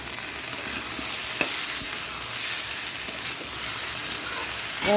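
Spice paste of turmeric, chili powder, garlic, ginger and onion sizzles and fries steadily in a pan for a fish curry, a continuous close crackle with occasional soft stirring clicks and no talking.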